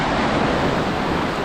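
Choppy ocean water at high tide washes and churns in a brief, steady, loud burst of surf noise mixed with wind.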